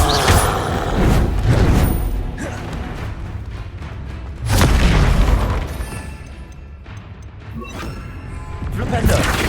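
Confringo blasting spells explode repeatedly in Hogwarts Legacy combat, heavy booming blasts arriving in bursts around two, four and a half and nine seconds amid crackling game effects, with voices calling out spells over the fight.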